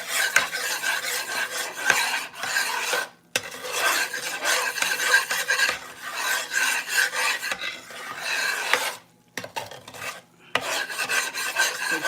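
A gumbo roux is stirred steadily in a pot, a loud, close, continuous rasping scrape with brief pauses between strokes.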